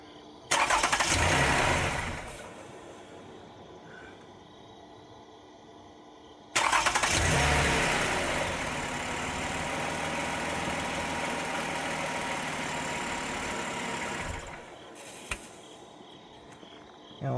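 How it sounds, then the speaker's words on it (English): A 2015 Toyota Sienna with a freshly replaced battery cranks and fires up, then settles into a steady idle; it starts twice, each start a loud burst fading to a quieter hum, with insect chirping in the background. "I'm going to try starting the car,"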